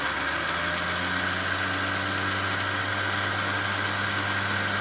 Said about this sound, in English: connect 12 volt power through the ammeter to the armature windings only, and give it a little spin